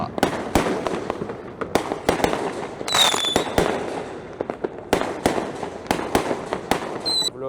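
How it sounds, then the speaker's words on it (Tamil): Firecrackers and fireworks burst nonstop at an outdoor Raya celebration, a dense run of loud, sharp cracks and pops with a few whistling rockets, and voices can be heard faintly in the background. "இவ்வளோ நல்லா இருக்கு இங்கே வந்து இந்த பட்டாசு வெடிக்கிறதெல்லாம் பார்க்குறதுக்கு."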